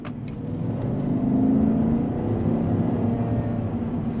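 A 2021 GMC Sierra Elevation truck cruises along a road, heard from inside as a steady low rumble of engine and tire noise that swells slightly midway, with no voices.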